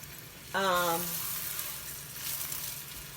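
A birria taco fries on a pan over a gas stove at medium-high heat, a soft steady sizzle that runs throughout, briefly overlaid by a short tonal hum or voice near the start.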